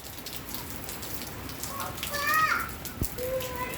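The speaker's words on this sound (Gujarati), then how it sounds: "જો ભાઈ, જોરદાર વરસાદ વરે છે." Heavy rain pours down in Chhara village, a dense, continuous hiss with faint distant voices and a few brief chirps rising through it.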